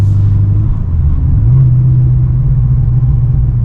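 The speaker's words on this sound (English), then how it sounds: "car is going well after the fuel pump and chiller install." A car drives through the streets of Brisbane after a new fuel pump and chiller install, with a loud, steady low engine rumble and road noise close inside the cabin and no talk.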